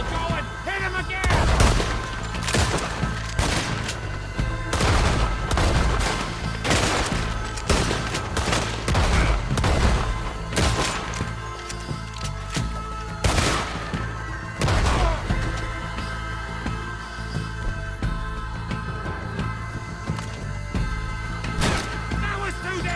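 Repeated gunshots ring out in a Red Dead Redemption 2 shootout, sharp cracks in irregular clusters over steady background sound, with voices in between.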